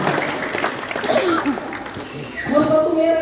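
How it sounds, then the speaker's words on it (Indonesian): Audience at a Christmas celebration in Manokwari clapping hands for God, a mid-level wash of clapping that swells near the end, with a voice talking and singing over it. "Yang pakai sepatu sampai 12 cm, tepuk tangan buat Tuhan"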